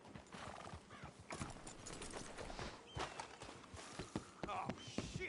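Horses' hooves clop steadily on a hard surface, with a snort or whinny amid faint voices and movement, fairly close.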